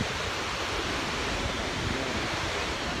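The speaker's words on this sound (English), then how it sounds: "Second waterfall of the day. Yeah, this is Skogafoss." Skogafoss waterfall in Iceland, a dense, constant roaring rush of falling water with wind buffeting, loud and unbroken for the whole short stretch.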